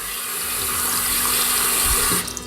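Tap water runs steadily and loudly over an electric toothbrush being tested for water resistance, a continuous close splashing stream that cuts off near the end.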